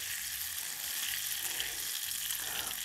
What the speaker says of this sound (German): So, jetzt nehmen wir das schöne kleine Pännchen und machen die Butter drin.